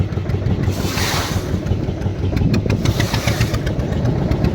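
Ship at sea rolling on ocean waves near Puri and Digha, with steady broadband wash of water and wind, a low engine rumble underneath, continuous and close throughout.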